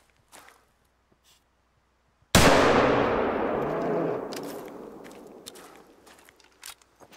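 A single loud hunting rifle shot cracks in theHunter: Call of the Wild, with a long rolling echo that fades over several seconds, preceded and followed by faint footsteps and soft movement.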